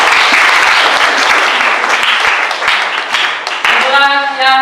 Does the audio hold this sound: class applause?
yes